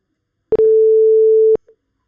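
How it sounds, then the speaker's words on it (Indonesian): A steady pure 440 Hz sine tone generated by a computer program plays alone for about one second, starting and stopping abruptly with small clicks at each edge. "kita dapat mendengar tadi suara dengan frekuensi 440 Hz dan grafik yang ditampilkan menunjukkan bentuk gelombang sinus"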